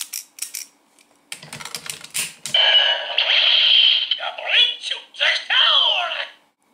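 Clicks and rattling handling noises come first, then the Kyoryuger Gabutyra toy with the No. 4 Zakutor Zyudenchi battery plays bright electronic sound effects and a synthesized voice, close and loud.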